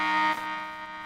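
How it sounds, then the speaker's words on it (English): A buzzer sounds loud and close, a steady harmonic tone holding for about a second before easing slightly, with no talking over it. "Here comes the buzzer."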